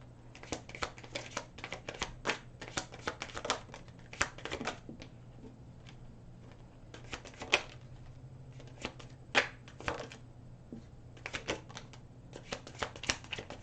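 Tarot cards are handled and shuffled close by in a quiet room, with a run of soft riffling snaps and taps in irregular clusters and no talking.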